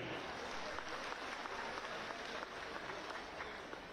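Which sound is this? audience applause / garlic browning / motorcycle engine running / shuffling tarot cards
audience applause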